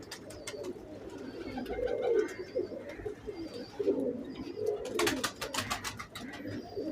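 Paralyzed breeder pigeons in a loft coo in low, rolling bursts that rise and fall, with sharp clicks and rustling in between, close and fairly quiet.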